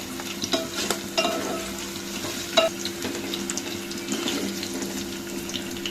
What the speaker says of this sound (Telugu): మంచిగా ఎల్లిపాయలు గోల్డ్ కలర్ వచ్చేదాకా ఫ్రై చేసుకుందాం.